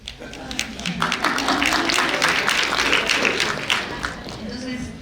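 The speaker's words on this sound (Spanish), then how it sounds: "Aplaudan ahora, por favor." Audience applause at a university design school biennial talk, a burst of crowd clapping that swells and holds at fair loudness, with voices mixed in and the clapping tapering near the end.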